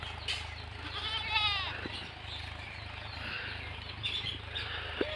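A goat gives a single wavering bleat at a rural home, moderately close against a steady low hum and faint background noise, with a few soft knocks afterward.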